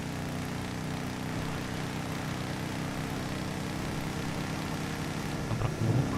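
A motorbike engine drones steadily in GTA roleplay, a continuous low hum held at an even level throughout, with a brief louder rumble near the end.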